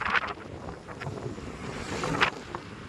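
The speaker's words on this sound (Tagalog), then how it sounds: "Sobrang lakas ng hangin." Strong wind buffets the microphone while riding motorcycles, an NMAX scooter among them, at speed in Tanay, Rizal, giving a steady broadband rush with a few louder gusts.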